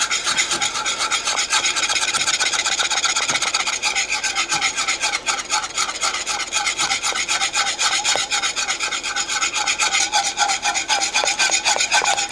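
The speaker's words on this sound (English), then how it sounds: "start whisking in the cornmeal" A whisk works continuously as cornmeal is stirred into a pot, a rapid, steady scraping and rasping with fine rhythmic strokes that carries on for over twelve seconds, close up, with no talking.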